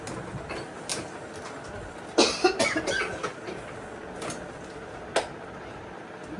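A person coughs in a short cluster of a few harsh bursts mid-clip, with a couple of fainter isolated coughs later, indoors amid balloon and party-decoration preparations.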